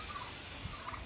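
Chickens on a farm in Hosur give faint, brief clucks that rise above a quiet outdoor background, with one low soft thump partway through.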